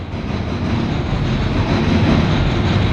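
CSX northbound coal freight train rolling past in Marion, Ohio, a steady, loud rumble of heavy cars with continuous low wheel noise and faint clatter, no voices.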